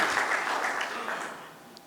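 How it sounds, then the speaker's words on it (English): Brief, diffuse applause from a gathered audience, steady at first and then gradually fading out over a couple of seconds. "A good round of applause for all of you for being here."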